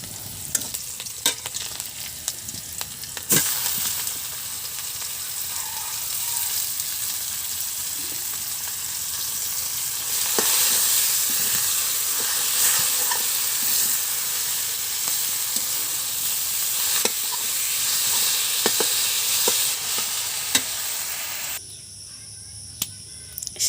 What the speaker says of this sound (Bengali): সরিষার তেল দিয়ে দিচ্ছি। এখানে তো শাক নামিয়ে নিছি, একদম সবুজ সবুজ করে ভাজি করব।